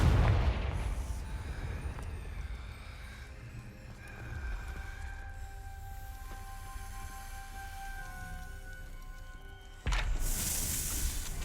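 The Confringo blasting spell goes off in the Hogwarts Legacy video game, a booming explosive burst followed by a long ringing, rumbling decay and a second sharp blast near the end, without speech.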